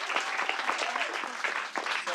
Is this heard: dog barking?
no